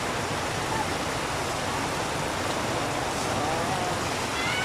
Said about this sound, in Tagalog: Bilis ang ulan.